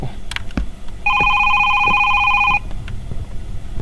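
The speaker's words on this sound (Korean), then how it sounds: "전화 받지 말고요." Telephone ringing in a horror video game, a single electronic ring burst of about a second and a half, loud and steady, standing out over sparse thumps and creaks.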